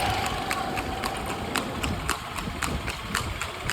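A mare walking in a village, hooves clip-clopping in a steady rhythm of sharp knocks, close and clear over a low background hum.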